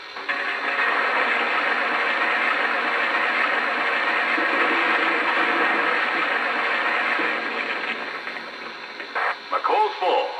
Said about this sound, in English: And here's the sound of coal being added to the tender.